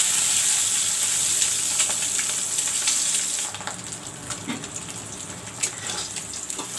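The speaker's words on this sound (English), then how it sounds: "This way I am going to fry the eggs." Eggs frying in a pan for an aloo and tomato vorta, a steady bright sizzle that fills the first half and then drops to a quieter crackle with scattered pops.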